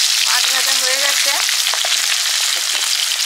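Fish frying in oil, a dense continuous crackling sizzle close by, with a brief faint voice-like tone early on.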